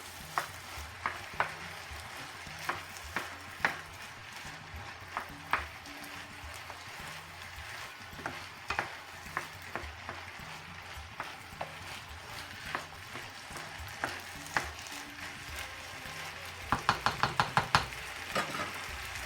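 Panang chicken stir fry with a spoonful of sweet chilli sauce is stirred in a hot pan: a quiet sizzle under repeated spatula knocks, with a quick burst of clatter near the end.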